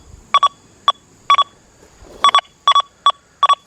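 A Deus 2 metal detector with an HF2 coil on a modified program beeps as the coil sweeps over a test area, giving short, clear electronic tones in single and paired bursts at a steady rhythm.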